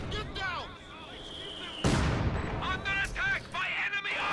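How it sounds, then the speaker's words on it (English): A mortar fires amid battle in a real-time strategy game. One sharp, booming blast lands midway, with scattered gunfire and crackling impacts around it and voices talking over the action. "So we do see a mortar from Devils Brigade."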